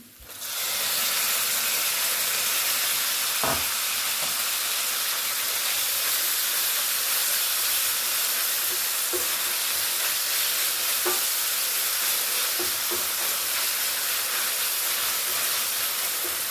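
Tomatoes and onions sautéing in a pan for palak paneer, a steady loud sizzle and hiss throughout with a few soft clicks and stirring touches.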